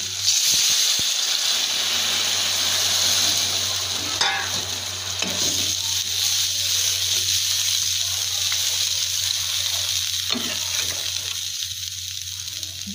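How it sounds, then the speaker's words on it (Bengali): Water poured into sautéed potatoes in a hot pan gives a loud, continuous hissing sizzle with bursts of steam and bubbling that hold steady throughout, close up, with no voices. "এবার আমি আলুগুলোর মধ্যে জল দিয়ে দেবো।"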